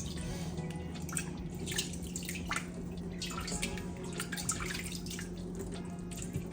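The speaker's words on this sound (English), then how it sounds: "I'm just gonna add some cool water until this water is warm enough to touch" Cool water runs into a bowl of spinach, making a soft, steady trickle with faint dripping and splashing, fairly quiet and close.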